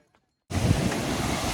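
A waterfall on the Amarnath Yatra mountain trek roars in as a loud, steady rush of falling water after a brief near-silence at the start.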